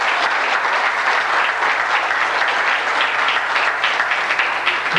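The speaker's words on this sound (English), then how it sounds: "give Brother Rashid a hand" Dense, continuous clapping from a sizable audience fills the space, steady and fairly loud throughout without voices standing out.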